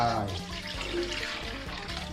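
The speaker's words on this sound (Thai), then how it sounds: "ใส่น้ำเปล่าลงไป" Plain water poured into a cooking pot while preparing boiled pork for a Lao-style khao poon noodle dish, a steady splashing pour at close range over low background noise.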